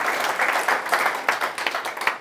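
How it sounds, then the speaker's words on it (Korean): An audience at a history lecture for a clan association bursts into applause, with a steady patter of many hands clapping at moderate loudness throughout. "이 젊은 강사가 얘기하는데 박수 한번 쳐주시죠"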